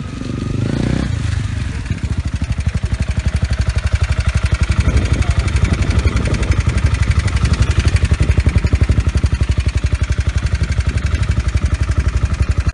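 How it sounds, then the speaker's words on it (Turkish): A used motorcycle engine starts and settles into a steady, loud idle with a rapid, even putter that runs throughout. "Şimdi motosikleti çalıştırdık."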